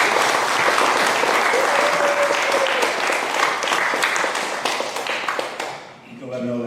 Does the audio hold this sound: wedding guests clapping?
yes